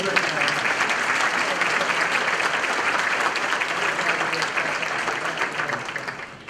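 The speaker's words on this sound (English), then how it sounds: "So let's give them an applause for just a minute" Sustained applause from a graduation ceremony audience honoring summer graduates, dense, steady clapping that holds throughout and tapers slightly at the end.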